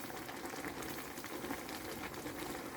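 Pumpkin and chili simmering in a pot, a quiet steady bubbling boil with small irregular pops, close but faint and continuous, no voices.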